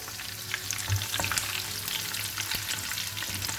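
Crushed garlic fries in hot oil, a loud, even crackling sizzle filling the whole stretch up close, with faint stirring taps scattered through it.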